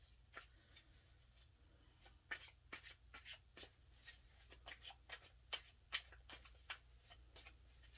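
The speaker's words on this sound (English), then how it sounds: "This deck is different, so I can't shuffle like the other one." Shuffling of a tarot deck with thick, cardboard-like cards: a rapid series of crisp riffling bursts and soft slaps, close and fairly quiet, with a steady low hum underneath and no talking.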